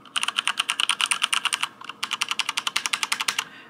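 Typing on a new gaming computer keyboard with a red backlight, a fast run of crisp key clicks with a short pause midway, close and alone.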